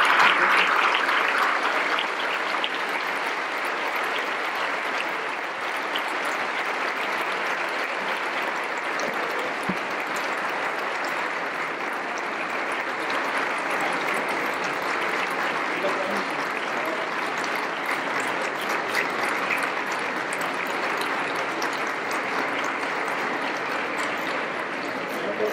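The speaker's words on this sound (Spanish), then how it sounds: "pido un aplauso para el poeta David Huerta" Audience at the opening press conference of the Guadalajara International Book Fair gives a poet long, steady applause, a dense wash of clapping that holds evenly for over twenty seconds.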